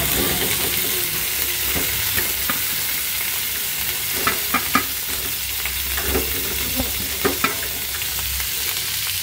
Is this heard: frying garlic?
yes